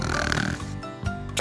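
A guinea pig snores in loud, rasping breaths: a long rough snore, a short pause, then another snort-like breath close up.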